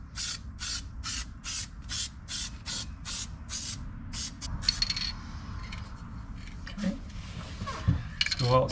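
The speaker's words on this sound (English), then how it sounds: "spray some adhesive to this, wait 1 minute for it to tack" A spray can of adhesive for a 1971 Super Beetle headliner hisses in a series of short, regular bursts, about a dozen quick sprays in a row, followed by faint handling noises and rustling.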